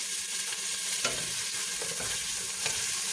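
Chopped onion sautéing in a pot, a steady close crackling sizzle with a few soft stirring scrapes and knocks breaking through.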